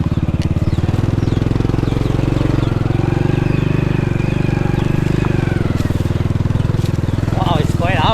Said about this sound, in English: I'm a little bit scared because we are riding the bike on the jungle